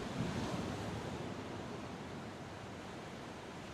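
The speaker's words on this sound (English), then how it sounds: "waves are moving around the ladder at that pace" Sea waves churn around a cold plunge ladder in Denmark on a rough, windy day, a steady broadband wash with wind buffeting the microphone and no voices.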